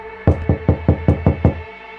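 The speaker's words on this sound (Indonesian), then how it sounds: "kami mendengar pintu villa tersebut diketuk beberapa kali" Six firm knocks on a villa door, evenly spaced and sharp, close and loud against a quiet background.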